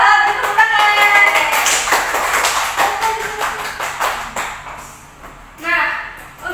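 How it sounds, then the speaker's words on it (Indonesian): A class of students in an Indonesian language lesson claps hands together, a dense, lively patter of many claps with some voices and bright clinking tones mixed in, ending in a final burst. "Tepuk tangan."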